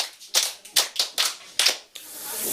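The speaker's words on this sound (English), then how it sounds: "Clap for him." Schoolchildren in a Nigerian primary school classroom clap in five or six distinct bursts, each a sharp, bright smatter of hands that fades quickly before the next, ending in a softer trailing patter.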